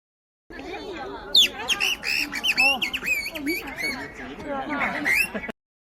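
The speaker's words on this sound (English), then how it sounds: "Who made the bird sounds?" Shrill bird squawks and chirps in quick, irregular bursts, fairly close, over a steady background murmur.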